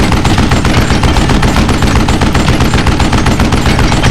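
Rapid, loud gunfire fills the moment continuously in the Western shooter game Call of Juarez: Gunslinger, with dense automatic-sounding bursts and no speech.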